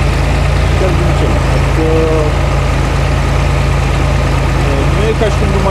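Farm tractor engine running steadily during preparation for wheat sowing, a loud continuous low drone with an idling character, while faint tonal sounds flicker above it; no speech over it.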